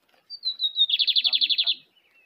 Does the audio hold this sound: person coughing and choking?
no